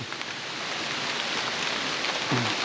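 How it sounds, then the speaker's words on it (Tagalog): Heavy rain pours down steadily outdoors, a dense, loud, continuous hiss with no pauses and a brief faint sound near the end. "andyan na yung ulan na malakas, grabe oh, yan na ang ulan"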